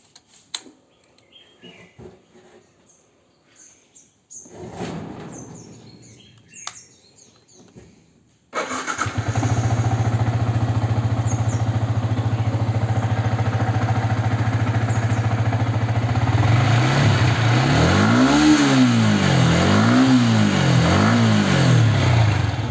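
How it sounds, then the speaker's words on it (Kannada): A motorcycle engine, on a bike that has just been in an accident, fires up after some quiet handling noises, idles steadily and loud up close, then is revved in several rising and falling bursts. "ಗಾಡಿನ ಸ್ಟಾರ್ಟ್ ಮಾಡಿಬಿಟ್ಟು ಒಂದು ಸಲ ರೇವ್ ಮಾಡಿಬಿಡೋಣ."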